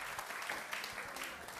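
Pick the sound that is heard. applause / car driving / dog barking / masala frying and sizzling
applause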